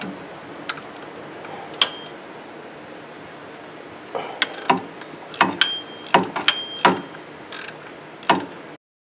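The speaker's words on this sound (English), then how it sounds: "We're going to take out that 14mm bolt, and we're going to take that tensioner assembly out of there right now." A 14mm tensioner bolt is loosened with a ratchet during a timing belt job on a 2008 Hyundai Santa Fe, giving close, sharp metallic clicks and clinks in irregular bursts, with quieter pauses between them.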